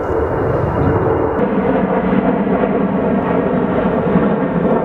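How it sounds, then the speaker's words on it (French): An airplane makes a loud, steady, broad engine roar that holds evenly throughout with no other sounds. "maintenant que l'avion est loin derrière nous"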